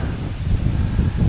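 Strong wind at a river dam buffets the microphone as a steady low roar with rolling gusts, loud and close, with no voices.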